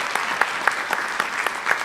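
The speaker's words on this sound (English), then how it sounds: "I just want to give them a quick applause" Audience applause at a healthcare collaboration conference session, a steady wash of many hands clapping, fairly near and continuous for a couple of seconds with no talk over it.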